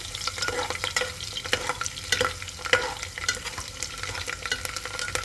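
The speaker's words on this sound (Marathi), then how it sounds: "स्लाईसमध्ये केलेलं लसूण टाकते लसूण अगदी थोड्या वेळ आपण फ्राय होऊ देऊया" Sliced garlic and cumin seeds fry in a pan for a Marathi masale bhaat, giving a steady crackling sizzle with repeated sharp scrapes and clicks of a spoon stirring, close and continuous throughout.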